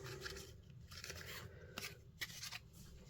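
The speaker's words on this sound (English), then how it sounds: "With my scissors again." Several short, crisp snips and scrapes of scissors working through ribbon, close by and fairly quiet, with no talking.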